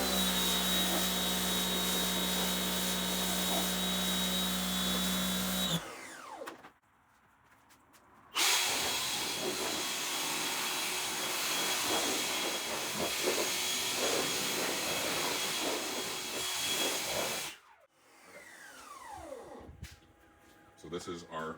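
A pressure washer rinses a surface with a loud, steady hissing spray, cutting off briefly twice before resuming, and the run ends in quieter handling noise.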